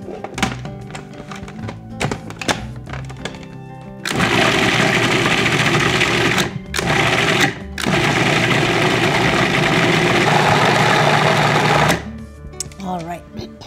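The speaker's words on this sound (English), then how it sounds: "So we're gonna put all this together in our food processor." A kitchen food processor whirs as it blends bananas for a fruit trifle, a loud continuous motor roar lasting about eight seconds with two brief dips, set between lighter clattering and handling noises.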